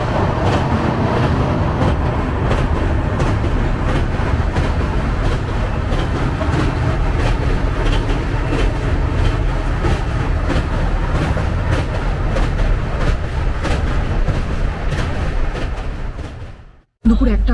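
Shatabdi Express 12278 running from Puri toward Howrah, heard from inside an executive class coach: a steady, loud rumble of wheels on rails with faint rhythmic clatter that carries on throughout, then cuts off abruptly near the end.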